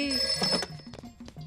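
A telephone rings in a Hindi comedy film, a few bright trilling bursts close by with brief gaps between them and faint voices underneath.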